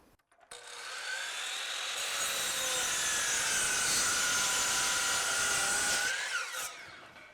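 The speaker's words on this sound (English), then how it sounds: "I'm going to cut an angle, flop it, slide it, cut an angle." A saw cuts a square-edge, non-grooved board to a set length against a jig for stair tread framing, one steady continuous cut lasting about six seconds, close and loud, starting and stopping abruptly.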